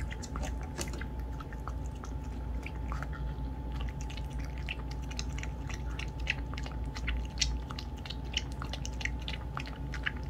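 A Maltese dog eating Maltesers chocolate malt balls with warm milk, giving soft, steady chewing and wet smacking sounds close to the microphone over a constant low hum, with no talking.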